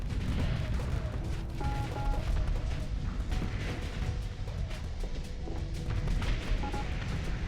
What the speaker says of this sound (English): Behold the firepower of this fully operational single flat cannon